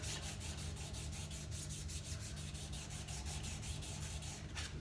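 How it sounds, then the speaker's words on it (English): A steel card scraper rubbed flat to remove its burr in a woodcarving workshop, giving steady, close rhythmic scraping strokes at an even pace, with no talk. "Just flatten that, take that burr off a little bit."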